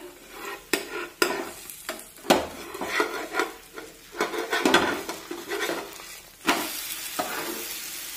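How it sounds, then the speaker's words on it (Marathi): A pearl millet flour dhirde, flipped in a pan, sizzles in added oil, with repeated spatula scrapes and metal clinks over intermittent frying hiss, close and moderately loud. "वरून थोडंसं तेल सोडूया आणि हे पलटून घेऊया"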